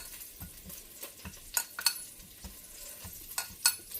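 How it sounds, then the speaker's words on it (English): Pork chops searing in a hot skillet give a low, steady sizzle, with intermittent clinks and scrapes of a utensil against the pan, nearby and fairly quiet. "between 2 and 3 minutes on each side as we sear them"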